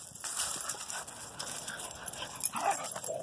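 Two dogs whimper and yip excitedly while playing during a recall session, with steady close-up scuffling and panting underneath.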